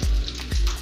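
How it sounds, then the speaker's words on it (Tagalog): Lumpia shanghai fry in a pan with oil, giving a loud, close, crackling sizzle broken by a couple of sharp spattering bursts over less than a second, with no voices. "Nagpiprito ako ng Shanghai."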